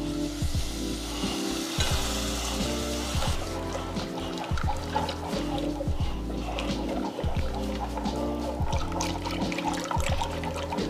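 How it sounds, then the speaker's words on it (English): Milk poured into a hot flour roux for cheese sauce in creamy mac and cheese, a bubbling, trickling sizzle with rhythmic stirring thumps close by and no talk. "Then we go ahead and start adding"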